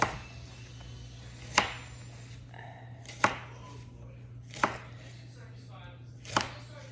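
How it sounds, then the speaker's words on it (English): A knife chopping vegetables thinly for broccoli cheddar soup, four sharp, evenly spaced thuds on a cutting board against a steady low hum, fairly close and without talk. "those are nice and thinly chopped, and these will be too"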